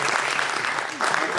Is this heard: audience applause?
yes